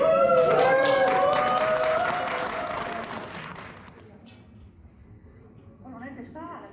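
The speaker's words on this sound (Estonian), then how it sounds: "aplaus talle" Applause at a farewell gathering for Andrus Joonas, a crowd of hands clapping under a voice at first, then thinning and fading to quiet before a voice returns at the end.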